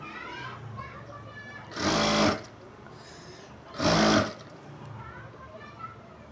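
Two short bursts of a sewing machine stitching a sleeve onto a dress, each a loud rapid buzz of about half a second, separated by quiet pauses with soft talk in the background.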